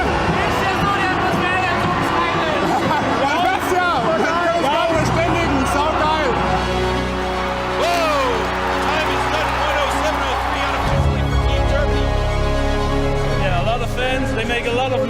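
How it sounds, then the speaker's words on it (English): Spectators at a STIHL Timbersports European Nations Pro Cup competition cheer and clap in a loud, sustained crowd roar, with announcer and interview voices running over it throughout. "It's pretty awesome to compete in front of a crowd like this."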